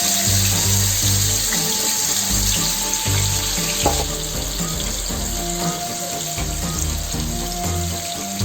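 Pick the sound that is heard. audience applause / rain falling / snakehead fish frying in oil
snakehead fish frying in oil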